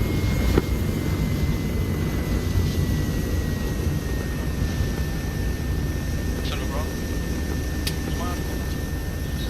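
A propeller aircraft engine drones steadily as the plane descends in the military game Arma 3, a constant loud hum that fills the whole stretch with faint radio-like chatter beneath.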